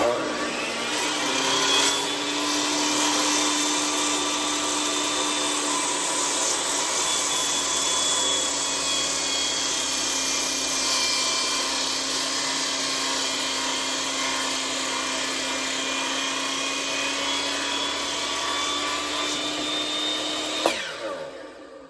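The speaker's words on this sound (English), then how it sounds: "this is a 4x6 beam, but it has enough torque to easily cut green or dry lumber or even big timber" A giant circular saw cutting through a 4x6 wood beam, a loud sustained high whine and grinding roar that runs for about twenty seconds before stopping abruptly.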